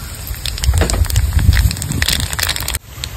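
Bay leaf, dried chillies and black cumin hit hot oil and crackle loudly in dense bursts, then the sizzle drops off abruptly near the end.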